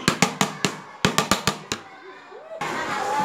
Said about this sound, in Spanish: Esto se llama el tamborcito y suena así.